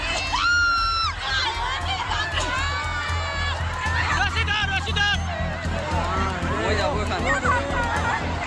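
A crowd screams and shouts in panic during a Durga idol immersion accident at a river in Jalpaiguri, West Bengal, a dense continuous mass of wailing, high cries and yelling voices close by.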